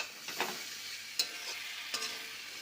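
Kashmiri chili is stirred in a frying pan with spices, a soft continuous sizzle broken by a few light scrapes and taps of the spoon, close and fairly quiet, with no speech.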